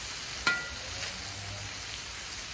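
Pastor taco meat spread out on a 36-inch Blackstone griddle gives a steady, close sizzle throughout, with one sharp metallic tap near the start and no talking.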